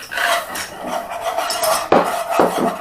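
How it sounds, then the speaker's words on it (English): Flour being stirred into just-melted butter in a pan, giving a steady scraping, rasping rub of utensil against metal with a couple of sharper knocks near the end, close and alone. "Give that a good stir"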